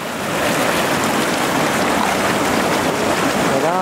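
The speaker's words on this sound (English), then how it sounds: "Looks like some whitewater rafters here approaching the bottom of Millers Folly Rapid." Whitewater roaring through Millers Folly Rapid in the New River Gorge, West Virginia, at 1600 cfs, a loud, dense, continuous rush of churning water with no voices.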